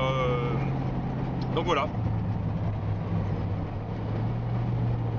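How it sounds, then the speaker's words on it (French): A 1931 Ford Roadster engine hums steadily while driving, a low continuous drone running throughout with a brief voice speaking over it. "Un bon vieux road qui a un joli bruit et puis qui avance bien."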